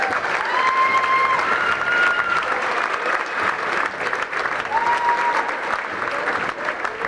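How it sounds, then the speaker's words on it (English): A basketball crowd in a school gym applauds the seniors at a girls' game, a loud, steady wash of clapping sustained throughout with a few faint whistle-like tones above it. "Let's give them one last round of applause."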